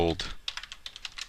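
Quick typing on a computer keyboard, a short run of about eight light clicks after a brief voice at the start.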